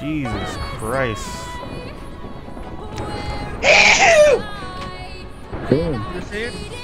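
A single sharp sneeze bursts out mid-clip amid playful chatter, laughter and squeaky talking voices in a gaming group.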